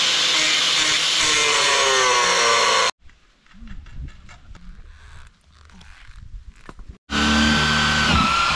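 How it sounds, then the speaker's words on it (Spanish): A drill bit bores through wooden straw-bale formwork on a natural building site, a loud steady grinding whine that stops for several seconds of quieter handling and rustling, then starts again, close and continuous. "ahora vamos a perforar con una mecha y pasar una varilla roscada a fin de poder apretar"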